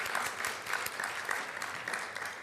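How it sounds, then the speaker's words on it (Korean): A church young-adult congregation applauding during a Sunday service, an even crowd of clapping at moderate distance that carries steadily through the moment without any talk. "우리 하나님께 감사와 영광의 박수 올려드리겠습니다"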